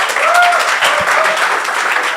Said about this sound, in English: So everyone, a round of applause for Auslan Party.